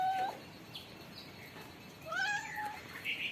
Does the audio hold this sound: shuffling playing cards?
no